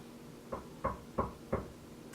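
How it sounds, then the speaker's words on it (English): Four evenly spaced knocks on a door, close and distinct against quiet background hiss, with no one talking. "before too long she heard a knock at the door"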